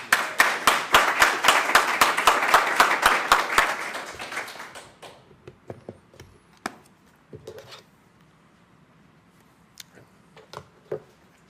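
Applause from a small audience at the IndieWeb Summit 2018 gathering, with a few seconds of close, rhythmic clapping that fades out, followed by scattered faint taps and rustles.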